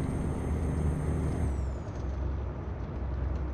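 A heavy truck engine labouring under an 87-ton trailer in Euro Truck Simulator 2, a loud steady low drone with a whining tone that drops in pitch partway through, continuous and close, with no talk.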